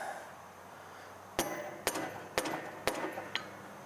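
Solid hammer whacks on a rusted lawnmower rear wheel hub: five sharp metallic strikes, about half a second apart, each ringing briefly in a quiet workshop.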